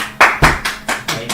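A few sharp, close claps ring out in a slow, uneven rhythm, about six in quick succession, from a crowd and infantrymen in the game Legends: Rebels Arise.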